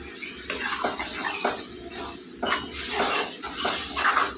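Water is poured into a pan of spiced cabbage and egg curry with masala: a close, continuous splashing pour with a few light clinks against the pan.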